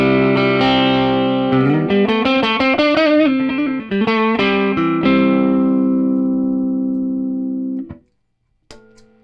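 An electric guitar played through an amplifier's clean channel rings out loud and alone, with a run of picked notes and chords followed by a long sustained chord that fades, then a couple of faint clicks.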